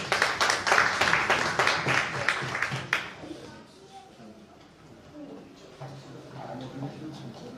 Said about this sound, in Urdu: آپ سب کی تالیوں میں